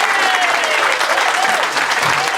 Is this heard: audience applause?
yes